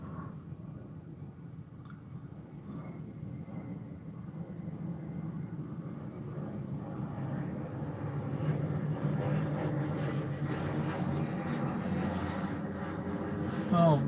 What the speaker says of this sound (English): Oh, these planes don't keep me awake all night.